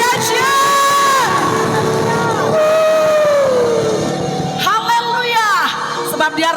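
A church congregation at a Sunday service breaks into loud, sustained applause and cheering, with whoops and shouts rising over the hall while music continues underneath.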